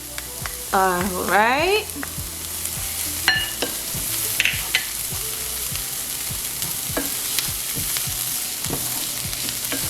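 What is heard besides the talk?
garlic sizzling in butter in a pan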